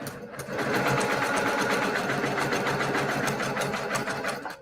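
A sewing machine runs a continuous, rapid stitching rhythm along a quilt seam, close and steady for several seconds without pause or voices.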